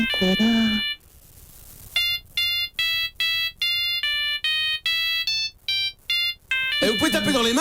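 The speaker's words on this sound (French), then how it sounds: "C'est les sonneries de portable." A voice is heard briefly, then a loud, cheerful mobile ringtone plays a quick rhythmic run of beeping notes before voices return.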